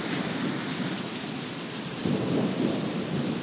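Low thunder rumbles and rolls through a Brisbane summer thunderstorm, a steady wash of heavy rain hissing over it, with a louder swell of the rumble in the final second or so.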